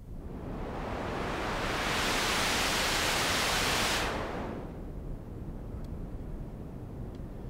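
Noise run through a Behringer ARP 2500 1047 multimode filter as the filter is swept, a loud hiss that brightens and swells, then drops to a duller, darker rush.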